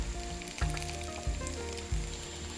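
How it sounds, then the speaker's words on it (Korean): Starch-coated rice cakes fry in garlic-infused oil in a pan, giving a steady close sizzle broken by a few soft thumps as pieces shift or are added. "전분 묻혀놓은 떡을 튀겨보겠습니다."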